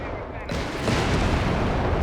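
A Stuka rocket artillery barrage fires in the video game Company of Heroes 3 as a sudden rumbling roar of launches and blasts that rises and holds, with game sound around it.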